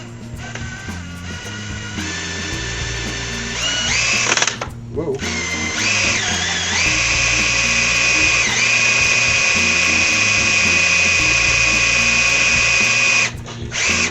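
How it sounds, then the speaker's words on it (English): A fast power drill whirs loud and steady for most of the clip with a rising high-pitched whine and a brief pause partway through, inside an engine on a junked Ford Falcon. One short exclamation is heard. "And now I got a faster drill."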